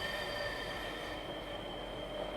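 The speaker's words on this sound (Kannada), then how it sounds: "ಟ್ರ್ಯಾಮ್ ಹೊರಡಿತು" A tram pulls away from Marina Central tram station, giving a steady close rolling rumble with high ringing tonal whines held throughout and no talk.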